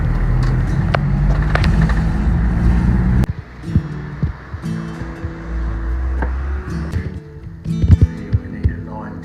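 A 1984 Isuzu JCR500 school bus on the move, loud engine and road rumble with wind roar for the first three seconds, then a quieter cabin hum with rattles, knocks and faint talking.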